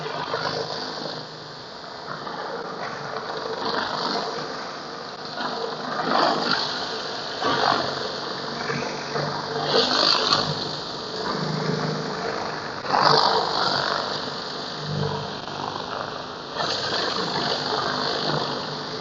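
A surface cleaner attachment running on a 2500 PSI, 5.5 GPM pressure washer, cleaning a dirty surface with a loud, continuous rushing hiss and engine drone that swells and dips as it moves.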